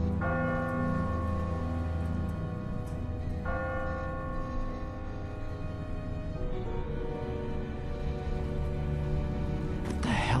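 Church bell tolling in The Walking Dead video game, a sustained ringing tone with layered overtones that swells, decays and strikes again several times over steady low rumble, loud and close, with no talk.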